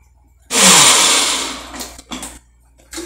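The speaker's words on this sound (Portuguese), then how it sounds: "Para poder eu bater no liquidificador esses legumes que foi refogado." A kitchen blender purees sautéed vegetables with chicken broth for a creamy chicken pie filling, starting abruptly with a loud roaring whir that gradually eases, then short bursts of blending as it stops and restarts.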